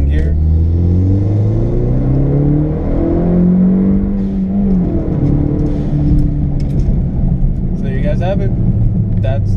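A Hyundai Veloster Turbo with an Injen intake accelerates hard from second gear, heard from inside the cabin as a loud rising engine drone with a rumble and a brief turbo whoosh near the end.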